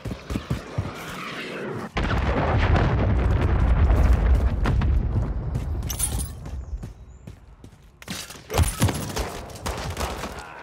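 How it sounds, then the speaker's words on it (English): A cruise missile strike in a multiplayer video game sets off a heavy explosion that rumbles for several seconds, followed by further bursts and crackling blasts. "Hostiles launched the cruise missile."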